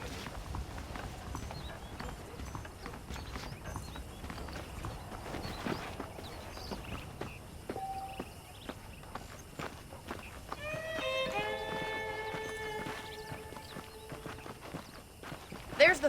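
Horse hooves clip-clop at a steady walking rhythm in Red Dead Redemption, close and moderate in volume, with a voice talking over them and a short musical chime near the end.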